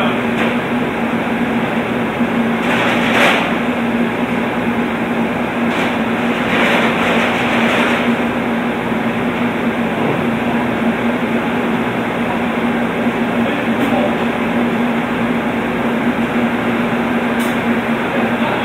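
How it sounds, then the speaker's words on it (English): A printer drum spins steadily while a file prints, giving a continuous loud mechanical hum and whir with a few brief swells, without speech. "now the drum is spinning and the file is being printed"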